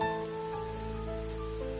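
Heavy rain shower pouring steadily in a horror cartoon scene, a dense, continuous hiss of rain on surfaces with a low rumble, loud and unbroken beneath quiet tonal background music.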